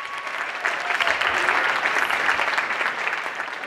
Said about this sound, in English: Another round of applause for all of the amazing musicians.